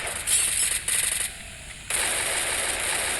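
Bursts of rapid automatic gunfire in short volleys, then a steady synthetic hum, loud and close.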